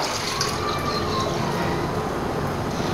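Water is poured from a measuring container into a cooking pot in a home kitchen, a steady continuous splashing pour heard close up, alone and without talk, for the full three seconds.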